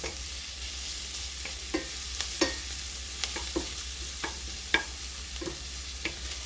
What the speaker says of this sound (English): I'm going to turn it down a little because we got the sizzle.